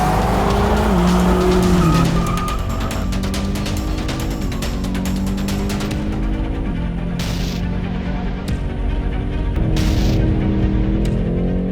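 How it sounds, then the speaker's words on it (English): A 2020 BMW M8 Competition driven hard on a race track: loud engine roar rising and falling through gear changes, with long tire squeals and skidding in the second half, close and continuous. "On the track, the M8 comes to life."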